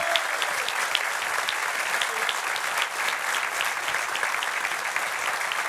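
A Corsican arts association audience applauds performing singers, with dense, lively clapping close by. It stays steady and even from start to finish with a few sharper individual claps standing out.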